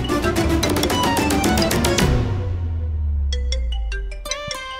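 A phone ringtone for an incoming call plays over a busy, loud background of music and clatter, with bright repeated tonal notes that fade and then sound again near the end.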